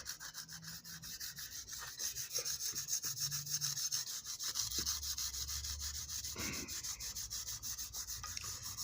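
Continuous close scrubbing of a prewar 1929-32 American Flyer Texaco tank car, a rhythmic rasping rub that runs steadily throughout at a fairly quiet level.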